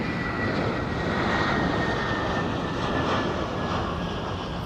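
Boeing 747 jet at London Heathrow Airport, a loud, steady engine roar that holds evenly throughout with a broad rushing hiss, heard alone without talk.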